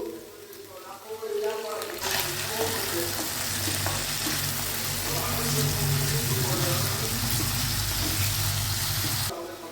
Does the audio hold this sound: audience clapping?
no